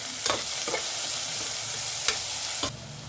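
Onions fry with curry leaves and a pinch of salt in a pan, giving a steady close sizzle broken by a few brief scraping stirs.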